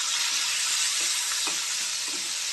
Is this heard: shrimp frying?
yes